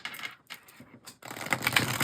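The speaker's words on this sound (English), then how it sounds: "One more shuffle." Tarot cards are shuffled up close, with a few short papery snaps followed by a brisk, continuous riffling rustle, all quiet and brief.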